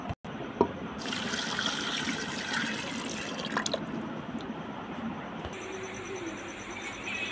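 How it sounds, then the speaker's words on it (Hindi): One litre of water pours steadily into a pressure cooker with mutton yakhni in a continuous splashing stream, close and moderately loud, with a faint ringing hum in the background. "अब इसमें मैं 1 लीटर पानी डालूँगी"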